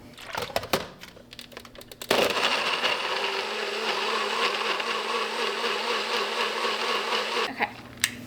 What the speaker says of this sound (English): All right, let's blend her up.